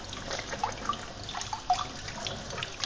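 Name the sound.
kitchen tap water running while washing rusty PS2 metal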